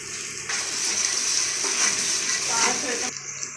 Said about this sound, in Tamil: அடுத்து வெங்காயம் வதங்கட்டும்.